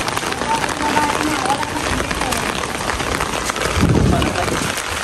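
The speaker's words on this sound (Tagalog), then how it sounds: "Hindi kami makapunta ng bukid kay sobrang lakas ng ulan." Heavy rain pours during Typhoon Carina around a flooded house, a dense, unbroken hiss of water close by that fills the whole stretch, with a brief heavier surge near the end.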